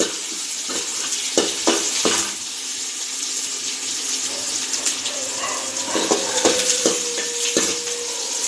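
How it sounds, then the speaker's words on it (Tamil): Steady loud sizzling of onion and fenugreek frying in hot oil, with occasional clinks and scraping of a stirring utensil against the pan. "இந்த வெங்காயம் வெந்தயம் போட்டு தாளித்தா வாசமாக இருக்குங்க"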